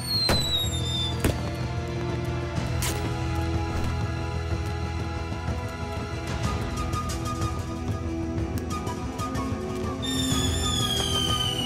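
Cartoon fireworks burst over a city in a dense run of crackling pops and bangs, with whistling streaks and layered effects, loud and continuous throughout.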